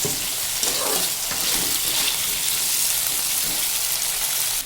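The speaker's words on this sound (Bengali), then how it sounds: "আমি জাস্ট লবণ দিয়ে আমি ভালো করে একটু ভেজে নেব" Homegrown Malabar spinach greens fry with blackened panch phoron and salt in a pan. A loud, continuous close-up sizzle sounds like steady rain, with faint stirring scrapes and no speech.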